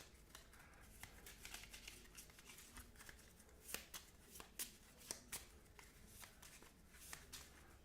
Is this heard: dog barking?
no